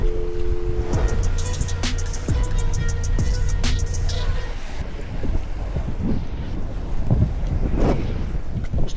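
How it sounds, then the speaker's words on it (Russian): Strong sea wind buffets the microphone of a kayak out fishing for sea bream near foaming surf. The roar is a steady, rumbling gust noise, with brief tonal whines early on and water sloshing around the hull. "Поднялся сильный ветер."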